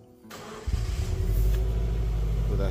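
A Subaru Impreza 2.0 WRX auto 4WD starts up: a short starter crank, then the engine catches with a rising roar and settles into a loud, steady idle close by.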